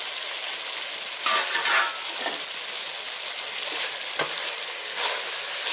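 Sun-dried cluster beans, mango and turkey berries fry in a pan for a spicy tamarind curry, giving a steady bright sizzle with occasional scraping stirs, close and without talk.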